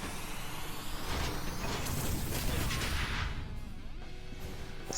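Unleashed Wrath attack in the video game Final Fantasy VII Ever Crisis: a dense, loud, sustained roaring blast of noise with crackling texture throughout, easing slightly near the end.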